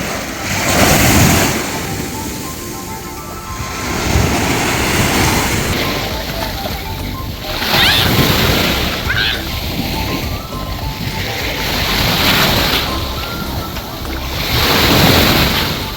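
Ocean surf rolls onto the shore at a beach resort on Samal, Philippines, with waves breaking in repeated surges every few seconds amid steady wind noise on the microphone and faint voices in the background.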